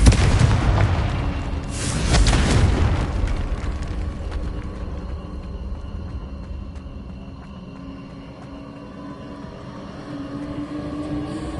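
Confringo fire spell explosion in Hogwarts Legacy, a loud booming blast with a burst at about two seconds, then a long rumbling tail under a steady ambient game drone.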